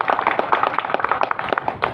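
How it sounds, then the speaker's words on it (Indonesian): Crowd applause at a community gathering of neighborhood residents welcoming Ramadan, dense overlapping claps with sharp individual hits, close and lively for a couple of seconds. "Tepuk tangan dulu buat citra kita."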